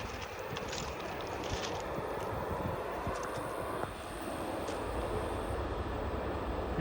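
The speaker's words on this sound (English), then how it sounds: "Amtrak Floridian, southbound in Palm Beach County, Florida." A southbound Amtrak Floridian passenger train, led by an ALC-42 Charger locomotive, rushes past in Palm Beach County, Florida, a steady loud roar of rolling cars and wind with no talking.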